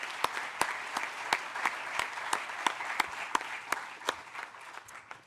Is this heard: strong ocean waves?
no